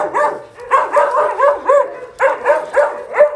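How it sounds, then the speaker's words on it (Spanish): A dog barks repeatedly at a passer-by walking another dog, in close, loud clusters of yappy barks with brief pauses between bursts. "Es difícil concentrarse paseando a un perro y que te ladre todo el mundo"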